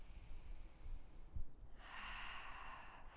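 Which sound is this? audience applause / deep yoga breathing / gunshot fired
deep yoga breathing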